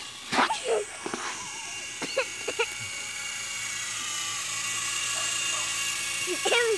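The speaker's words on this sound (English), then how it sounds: "No, the helicopter." A helicopter flies overhead outdoors, its steady droning whine filling the background throughout, while a few short vocal sounds and coughs break in near and loud.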